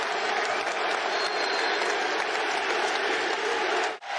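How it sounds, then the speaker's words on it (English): A basketball arena crowd applauding steadily and loudly as a player checks into a game, a dense continuous roar of clapping that briefly drops out near the end. "the crowd shows more and more love to D Rose"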